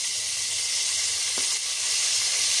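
Fresh curry leaves hitting hot oil with chana dal, urad dal, peanuts and mustard seeds give a steady, bright sizzle and hiss, with a brief sharper crackle partway through.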